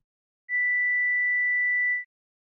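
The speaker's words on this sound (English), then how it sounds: "So that is 2000 hertz, or 2 kilohertz" A pure, high 2000 hertz sine tone sounds steadily on its own for about a second and a half, then stops.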